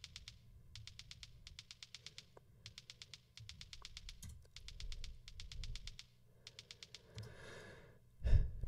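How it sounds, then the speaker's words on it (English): A clickety, typewriter-like click loop in a techno track built from vinyl samples, repeating in quick bursts of rapid ticks with short gaps, steady and fairly quiet, ending in a louder thump. "this clickety click type loop"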